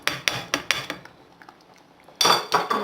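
Olives stirred into a simmering tuna sauce in a pan, a run of rhythmic metal spoon clinks and scrapes against the pan, a brief lull, then a louder burst of stirring up close.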